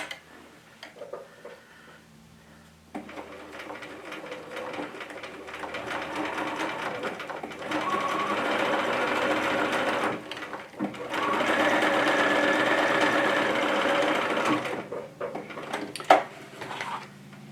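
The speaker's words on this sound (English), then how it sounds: "just do kind of a top stitch right along the edge where the two meet up" Sewing machine top stitching along the edge of fabric, quiet handling at first, then a steady close mechanical whir in two long runs with a brief pause between, ending in a sharp click.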